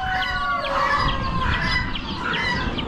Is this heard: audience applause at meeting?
no